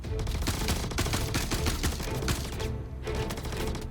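Gunfire from a weapon with a new recoil system in Star Citizen: loud, rapid automatic shots in a fast, close, continuous rattle, then a short pause and a final few rounds.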